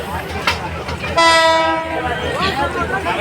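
A train entering a station during a trip to Chandpur sounds its horn in one loud sustained blast, heard close by over rumbling rail noise and a busy platform background.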